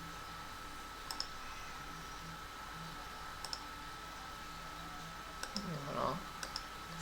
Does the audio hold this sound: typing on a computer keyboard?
yes